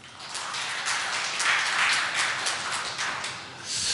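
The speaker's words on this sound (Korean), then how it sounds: "우리 청년부에게 좀 큰 격려의 박수 부탁드립니다" A church congregation applauds its youth choir during an Advent Sunday service, a steady, even wash of many hands clapping at moderate distance for about four seconds.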